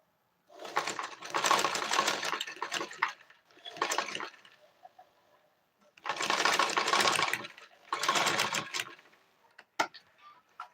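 A sewing machine stitches fabric for a simple kids' dress in four close bursts of rapid whirring, separated by short pauses and a few faint clicks.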